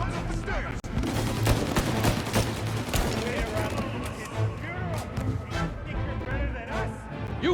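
Rapid bursts of gunfire crackle through a shootout in the Mafia Definitive Edition video game. Shots come in dense volleys and single cracks, with shouted voices and game sound mixed in.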